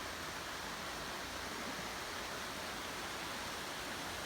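Water flowing steadily behind a mountain hotel, a constant, even rush like a stream or small falls, soft and unbroken with no voices or other sounds.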